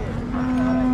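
A Jersey cow at a cattle market in Sangola gives one long, steady moo, close and loud, filling the whole second without other clear sounds.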